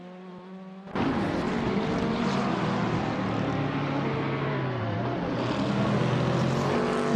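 A 2006 Alfa Romeo 156 touring car in the WTC class of a racing video game, with its engine cutting in abruptly and holding a loud, steady high-revving drone, the pitch wavering slightly through shifts, alone without talk.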